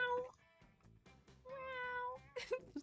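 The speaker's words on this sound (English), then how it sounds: "My cat is in the hallways yelling her little lungs." A house cat yowls in a hallway, giving a few drawn-out, tonal meows that rise in pitch, moderately close and fairly loud, with no talking.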